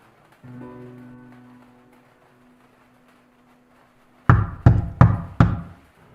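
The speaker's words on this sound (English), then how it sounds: "someone pounded on the front door" Four heavy, evenly spaced knocks pound on a door after a soft, fading hum; loud and close, with silence between.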